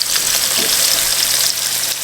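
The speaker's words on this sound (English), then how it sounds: "I'm gonna go ahead and cook this lamb and then saute the" Lamb sizzles in oil in a pan with a brief, even, close hiss of frying and no voices.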